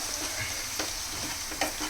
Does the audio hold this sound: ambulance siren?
no